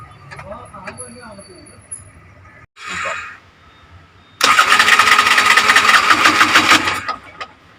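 Bajaj CNG auto rickshaw engine started on petrol: quiet shuffling and a brief cranking burst, then the small engine catches and runs with a loud, close, rough rattling idle for a couple of seconds before dropping back.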